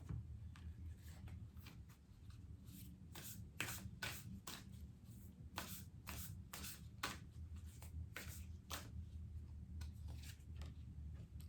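Starseed Oracle cards are shuffled by hand in a quiet room, a run of soft papery riffles and flicks repeating every half second or so, close and fairly faint over a low background hum.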